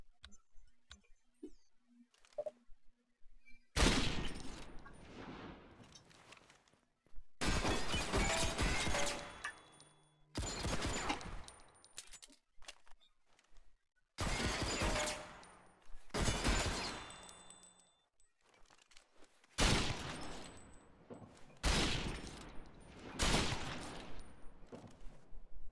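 Several loud bursts of gunfire at a firing range in the game Ghost Recon Phantoms, sharp volleys of varying length separated by short quiet gaps, close and prominent with no talk.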